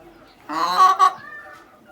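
An Aseel hen brooding on eggs lets out a single short, nasal clucking call, close and clear against a quiet background.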